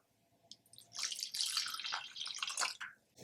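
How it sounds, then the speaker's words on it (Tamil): Water pours steadily into a pan for pineapple kesari, a bright splashing stream close by that starts after a brief quiet moment and lasts a couple of seconds. "இது கூடவே 1 கப் தண்ணியை சேர்த்துடலாம்."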